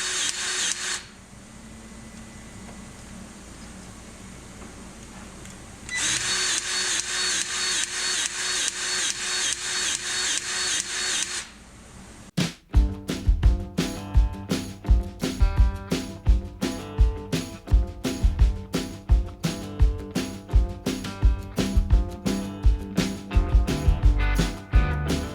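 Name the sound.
grease gun pumping grease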